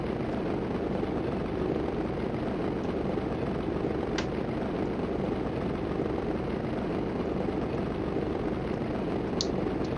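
Steady, loud drone of a spotter plane engine in the flight-stunt video game Stunt Island, continuous and unchanging with no talk.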